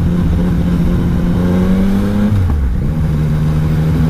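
A 2021 Yamaha Tracer 900 GT motorcycle runs under a rider with its engine droning steadily and loud, its pitch dipping briefly as it shifts midway before settling again.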